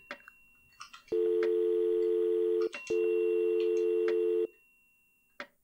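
An Omori video game telephone rings in two long, loud electronic bursts with a short gap between them, preceded and followed by faint clicks and soft game sounds.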